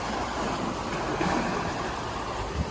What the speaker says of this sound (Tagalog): So maingay yung alon.